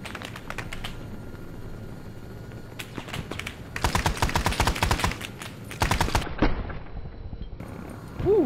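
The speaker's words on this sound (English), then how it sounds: "Oh yeah, they're still shooting at us." Enemy gunfire in Arma 3 SOG Prairie Fire, a Vietnam War game, crackles in dense rapid bursts, with sharp automatic volleys coming in clusters, fairly close and loud, with short pauses between strings of shots.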